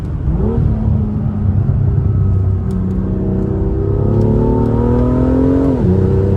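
A carbon-bodied BMW M2 with a titanium exhaust revs up and holds a deep throaty exhaust drone, pitch rising gradually before dropping off at the end, loud and close.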